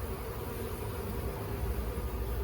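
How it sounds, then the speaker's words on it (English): Honeybees swarm around an open backyard beehive set in the middle of town, making a dense, steady buzzing drone that holds close and loud without a break. "there's a lot of bees flying around in the middle of town here"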